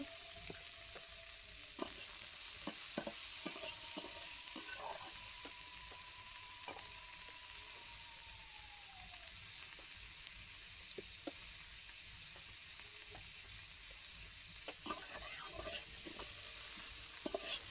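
Salted chopped taro stems and chilli fry in mustard oil with tangra fish, sizzling softly and evenly while a spatula scrapes and taps the pan in irregular strokes.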